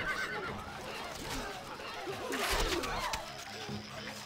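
A horse whinnies loudly amid busy game-like background noise in Stronghold: Crusader, with faint hoof clatter nearby.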